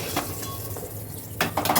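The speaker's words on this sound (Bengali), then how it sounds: "এবার ওই তেলের ভেতর আমি দিয়ে দিচ্ছি বেগুনটা।" Cut eggplant going into hot oil in a pan, with a soft steady sizzle, light clinks of utensil against the pan, and bursts of louder crackling toward the end.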